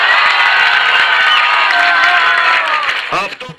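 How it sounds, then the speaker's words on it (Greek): A large crowd of citizens beside a newly elected mayor, applauding and shouting slogans together, a loud dense roar of clapping and voices that keeps going and then fades at the end. "Στο πλευρό του Δημάρχου οι πολίτες που χειροκροτούσαν και φώναζαν συνθήματα."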